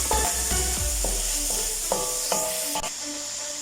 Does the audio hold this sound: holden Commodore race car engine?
no